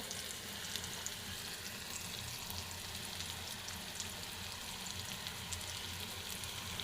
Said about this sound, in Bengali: এটাকে যদি বেশি সময় ধরে না ভাজি তাহলে আদা রসুনের গ্রানটা ভাজির ভিতরে থেকে যাবে তার জন্য এটাকে কিছুক্ষণ ভেজে নেব